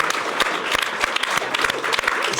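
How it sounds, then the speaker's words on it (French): Studio audience applause on a French talk show, brisk close clapping with distinct sharp claps over a steady crowd wash, short and continuous. "c'est Ignace qu'on peut applaudir bien fort"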